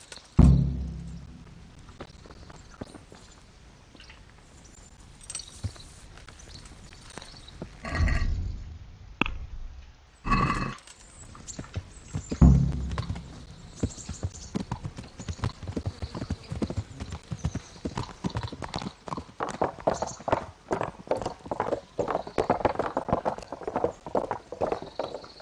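Horses clip-clop along at a riding pace in Kingdom Come Deliverance, with hoofbeats growing from sparse steps to a rapid, steady rhythm. A snort and the creak of tack come and go, all close and fairly loud.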